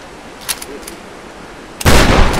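An enemy shotgun firing in Tomb Raider (2013): a single loud, close blast that ends a quiet stretch holding a few faint clicks and taps.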